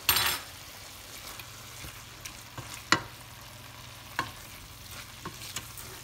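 Minced meat kefta fries in a pan with a steady, quiet sizzle, broken by sharp scrapes and knocks as it is stirred every second or so.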